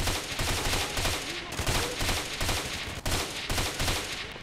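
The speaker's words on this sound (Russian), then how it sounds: "пока они здесь воюют, жестко стреляются, взрываются там" Sustained gunfire and blasts in the STALKER video game, dense rapid bursts of shots and a few heavier booms repeating in irregular volleys, loud and continuous with no talk.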